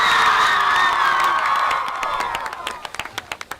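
School crowd at a high school game day event cheering and whooping loudly, with children shouting and applause; the roar fades into scattered individual claps toward the end.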